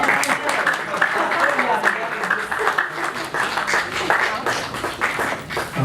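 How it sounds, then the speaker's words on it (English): An audience at a naming ceremony claps hands in a dense, steady patter of applause, with voices and cheering mixed in throughout. "Please clap your hands"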